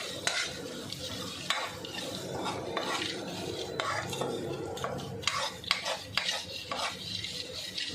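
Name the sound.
stirring grated ginger into oil in a pan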